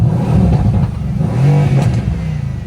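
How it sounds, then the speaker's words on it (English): Mercedes-AMG V8 biturbo engine revving from inside the car with a window open, deep throaty blips that rise and fall in a couple of loud surges over a low rumbling idle, no talking. "these are revs for LeBron"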